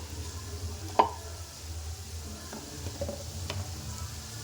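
Chopped tomatoes go into a pan of sprouts curry on the stove, giving a faint steady sizzle with a few soft clinks and stirring scrapes, one sharper tap near the start.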